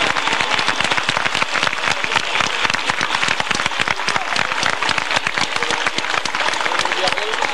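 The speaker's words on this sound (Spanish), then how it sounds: "se merece de verdad un fuerte aplauso, porque hay que agradecérselo también" Strong, crisp applause from a festival audience in Aragon thanking the sound technician, dense sharp claps sustained evenly throughout, with some voices in the crowd.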